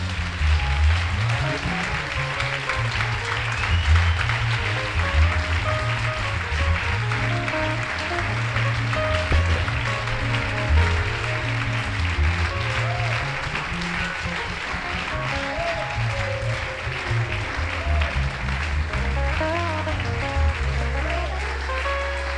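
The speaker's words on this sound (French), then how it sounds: "Est-ce qu'on peut l'acclamer?" A Bible conference audience applauds at length, a dense, steady wash of clapping that holds evenly throughout, with cheers and musical tones mixed underneath.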